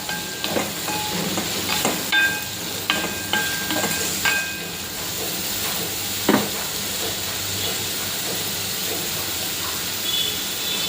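Washed, chopped ridge gourd sautés in hot oil with a light sizzle. Scattered clinks and scrapes of stirring come in irregular bursts over the frying, ending with a sharp knock.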